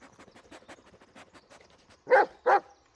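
A dog in the Blair Witch video game sniffs in a quick run of soft, rhythmic snuffles, then gives two louder, close whimpering yelps.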